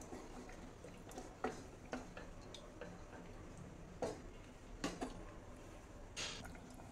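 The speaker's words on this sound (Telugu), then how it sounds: "ఒకసారి మిక్స్ చేసేసుకుందామండి" A spoon stirs paneer biryani rice and water in a pressure cooker, giving soft scattered scrapes and light metallic taps, quiet and close, with a few sharper knocks.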